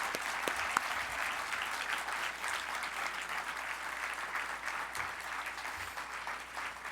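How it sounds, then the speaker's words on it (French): An audience at an evening gala claps steadily in a long, even round of applause that carries on without a break, heard from a distance in a large room. "Mesdames et messieurs, là, on peut vraiment les applaudir et fort."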